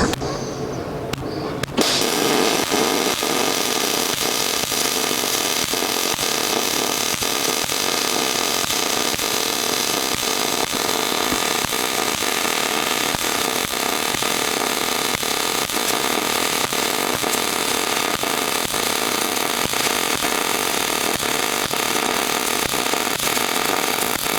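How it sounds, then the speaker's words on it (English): A filler pass is welded on steel A-frame joints of a gantry crane. A continuous harsh buzzing crackle with faint regular ticks starts after a brief pause and runs steadily and close by. "then I'll do a filler pass to bring it up to the level here"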